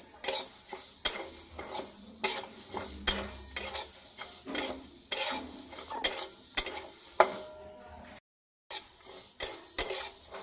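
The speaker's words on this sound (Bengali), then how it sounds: "এই দুটো এবার একসঙ্গে ভেজে নেব শুকনো কড়াইয়ে" Dry scraping and clinking of a spatula against a dry metal wok, repeated in steady strokes as coriander and cumin seeds are roasted and tossed, with a brief silent gap.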